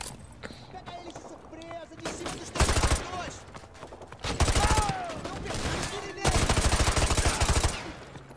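Bursts of automatic gunfire in Modern Warfare 2 Remastered come in three loud rapid volleys between quieter stretches, with someone talking over the game sounds.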